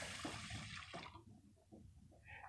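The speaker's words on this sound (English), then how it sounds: "2 cups of water." Two cups of water are poured onto rice in a pot, a steady close splashing stream that stops after about a second, followed by faint clinks and handling sounds.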